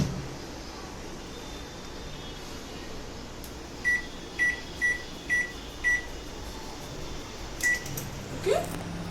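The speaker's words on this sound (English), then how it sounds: "So I'm keeping it in the preheated oven for about 40" Preheated oven set to 170 degrees centigrade baking white chocolate brownies, a steady hum with a run of evenly spaced beeps in the middle, two more beeps later and a faint clunk, all fairly close and without speech.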